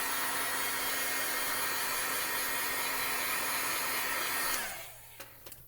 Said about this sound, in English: I am just going to set it with the heat tool real quick.